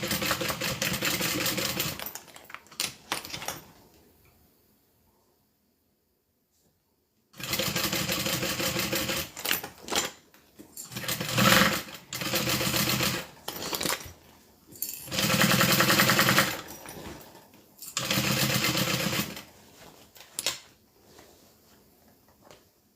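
A sewing machine stitches over the thick side seams of a quilted Big B bag while its shoulder straps are attached. Close, loud bursts of rapid stitching run a few seconds each, separated by quiet pauses.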